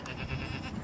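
Goats bleating on a homestead where they share space with sheep. A brief, close bleat rises over low farmyard noise.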